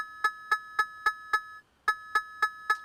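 An Ableton Operator synth patch with its envelope looping on eighth notes gives a steady train of short plucked tones, evenly spaced, with one brief gap before the pulses resume.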